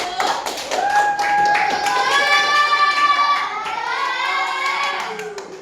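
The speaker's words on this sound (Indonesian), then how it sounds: "Boleh tepuk tangan semuanya untuk kelompok 1" Elementary pupils in a classroom clap for the first quiz group after a multiplication lesson, brisk scattered claps mixed with children's sung or chanted voices, close and lively, tapering slightly at the end.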